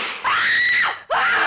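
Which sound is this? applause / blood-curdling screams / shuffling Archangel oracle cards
blood-curdling screams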